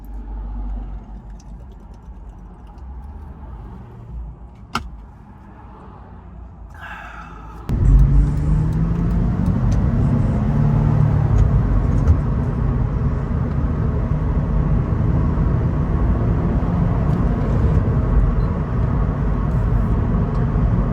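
Interior of an Acura TL Type S driving on newly restored suspension around Portland: a quiet cabin hum, then a sudden step up into a steady, loud road rumble and tire roar that holds to the end.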